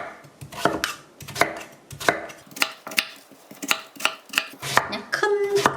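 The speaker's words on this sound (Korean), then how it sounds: "호박을 좀 잘게 잘라줘야 돼요." A knife chops peeled pumpkin into small chunks on a cutting board for pumpkin porridge, giving about a dozen sharp, close, rhythmic strikes with no voices.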